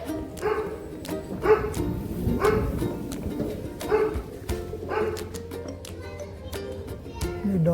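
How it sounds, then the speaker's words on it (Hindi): Several dogs bark at a scooter taxi as a ride is starting on a street, with repeated mid-distance barks rising over steady traffic and background noise. "डॉगी पता नहीं रैपिडो वालों से क्या दुश्मनी है, देखते सारी भौंकने लग जाते हैं"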